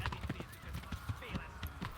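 Horse hooves clip-clopping in the medieval video game Kingdom Come: Deliverance, a steady run of soft repeated thuds, close and moderately loud, with a voice talking over them.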